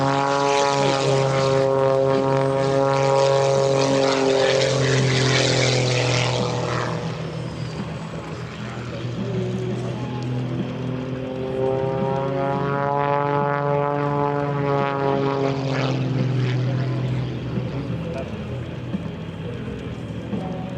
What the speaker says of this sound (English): He slows it down. This is one of Kirby's signature maneuvers